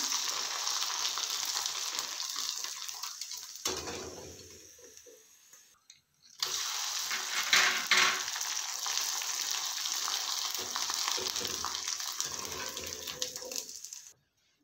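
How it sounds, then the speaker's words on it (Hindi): Steady crackling sizzle of papad frying in hot oil, continuous and close, with a short quieter gap partway through. "हरा धनिया वाले पापड़ भी तल लेते हैं"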